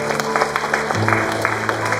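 Audience applause at a magic show during a festival, a steady dense wash of clapping lasting throughout, with a low hum shifting midway underneath.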